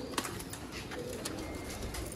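Pigeons in a loft in Sialkot give soft, low cooing calls that are faint and slightly distant, over a constant background murmur.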